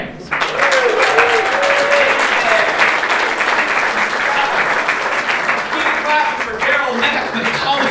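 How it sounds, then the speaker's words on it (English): A comedy club audience in Toronto keeps clapping for a stand-up comedian, loud and continuous after a brief start, with the comedian's voice speaking over the applause. "Hey, you're still clapping."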